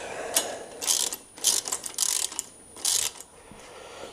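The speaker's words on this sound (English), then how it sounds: "an 8mm Allen wrench and a 17mm socket" A ratchet wrench with a 17mm socket clicks through several quick bursts of pawl ratcheting, close and fairly loud, with short pauses between strokes while a bike mover is assembled.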